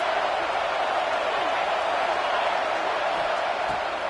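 A stadium crowd roars steadily in a college football video game, Texas vs UCLA, during a third-down red-zone play, as a broad, even wall of cheering with no gaps.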